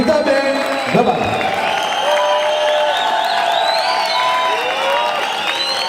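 Audience applause and cheering at a Gujarati folk music event in Leicester, a crowd clapping steadily throughout, with whoops and shouts rising over it.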